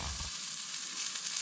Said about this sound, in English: I told him he can cook my steak.